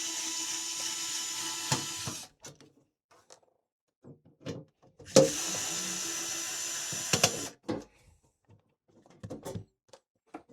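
A HOTO PixelDrive cordless electric screwdriver drives ordinary screws in two whirring bursts of about two seconds each, close by, with small clicks and handling knocks in the quiet gaps between.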